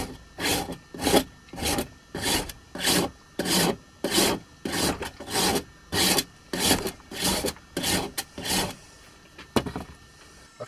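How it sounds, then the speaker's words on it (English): A rasp shaping a wooden cup, about fourteen rhythmic rough scraping strokes in a steady back-and-forth pattern, close and loud with no talk. "more likely I'll use the rasp. The benefit of the rasp, I can roll, giving it a rounded effect."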